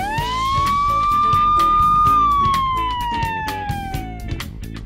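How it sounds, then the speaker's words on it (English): A fire truck siren from an animated cartoon gives one long wail that rises, holds steady and slowly falls over about five seconds, loud and clear over a steady backing of music. "And these are sirens."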